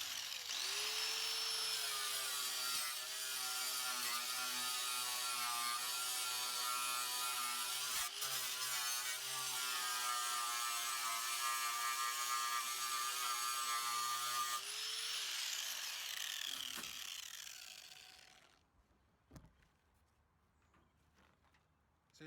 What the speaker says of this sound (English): I'm going to show you with the 36 grit how it strips compared to the Eastwood